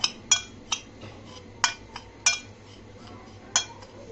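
A utensil clinks against a bowl while semolina ingredients are stirred together, giving six or seven sharp, fairly close taps at an irregular pace over a quiet background.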